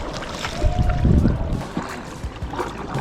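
A kayak is paddled on the water of Ha Long Bay, Vietnam. Close paddle splashes and trickling water come in a few uneven strokes.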